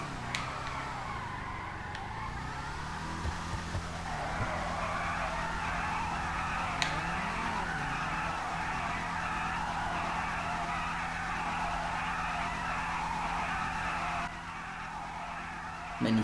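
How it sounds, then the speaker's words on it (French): Tires skid and squeal as a Bravado Hellfire car drifts in GTA V, with a steady engine drone and long sustained screeching that runs almost the whole time, briefly dropping near the end. "Je vais vous faire écouter le drift."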